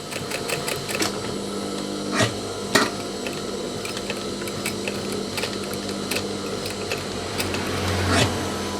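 A sewing machine stitches the sleeve placket of a denim jacket, running with a steady mechanical whir and rapid needle ticking, punctuated by a few sharper knocks, with a voice speaking faintly underneath.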